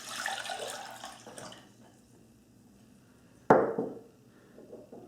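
Water is poured from a tap or jug into a container for a sodium alginate and brandy bath in a kitchen, a splashing gush at the start, then a sharp burst of pouring midway before fading.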